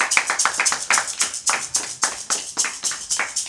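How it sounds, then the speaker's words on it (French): Applause for a guest at a French storytelling show, steady rhythmic clapping from a small audience at close to moderate distance, heard on its own without talk. "On l'applaudit."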